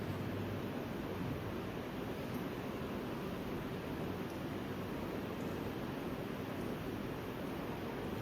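Steady rain falls outside, a dense even hiss of drops that stays unbroken and fairly quiet throughout, with no voices.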